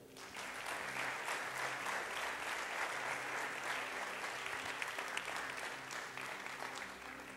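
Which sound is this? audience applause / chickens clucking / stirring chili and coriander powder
audience applause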